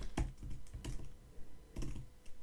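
Keystrokes on a computer keyboard come in irregular bursts of clicks, a few quick taps followed by a pause and then another short flurry, close and clear with no voices.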